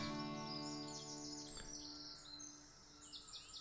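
Small birds chirp and twitter in quick bursts of high, bright calls, fairly faint against a steady background hum, with no talking.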